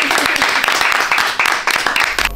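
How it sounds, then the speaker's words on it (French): An audience in a backstage setting gives steady, lively applause with a few sharp individual claps standing out, filling the whole moment at close range and fairly loud. "on applaudit"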